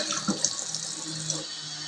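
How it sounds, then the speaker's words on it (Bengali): Running tap water pouring into a sink during handwashing, a steady close splashing stream with small spatters and no speech. "এবার আমি হাতটাকে ভালো মতন ধুয়ে নিচ্ছি"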